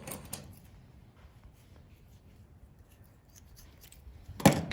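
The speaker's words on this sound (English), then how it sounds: "And then make another cut on its stomach." Kitchen scissors snip through a squirrel's skin along the stomach during cleaning: a few faint crisp cuts near the start, quiet handling in between, then a sharper, louder snip close by at the end.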